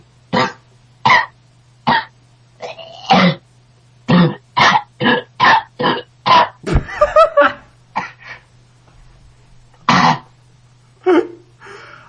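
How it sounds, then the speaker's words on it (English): A series of sharp, repeated coughs and throat-clearing bursts, loud and close, coming in irregular clusters with brief pauses between them. "Oh, the coughing"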